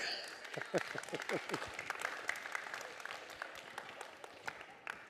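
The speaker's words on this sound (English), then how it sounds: "let's give everybody a round of applause" Audience applause from a seated crowd: fairly faint, continuous clapping in a room, with some people talking over it as it gradually settles.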